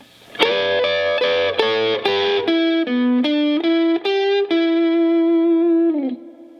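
A slow rock guitar lick on a distorted electric tone, starting with repeated double stops, then single bent notes stepping upward before a long sustained note.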